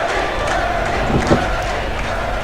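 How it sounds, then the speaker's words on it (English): A wrestling arena crowd in the WWE 2K video game roars continuously, a dense, loud mass of voices with rhythmic chanting swells rising through the noise. "the crowd trying to hype up Danny Kirby with the chants of Kirby"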